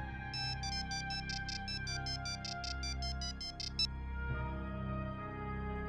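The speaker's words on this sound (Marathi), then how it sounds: "बेल वाजते. अभिच्या घरून फोन आहे." A phone ringtone chimes in a rapid repeating electronic melody for several seconds, then stops, leaving a low background hum.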